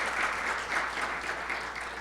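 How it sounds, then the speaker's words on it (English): Audience applause at an academic symposium on plant-based foods and nutrition, a steady, moderately quiet patter of many hands clapping in a hall, continuous throughout. "I want you to please applaud for"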